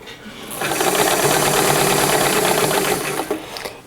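A sewing machine stitching through layered fabric and seam allowances for a jacket facing, running in a steady, loud, close mechanical whir for about three seconds before slowing and stopping, with no talk.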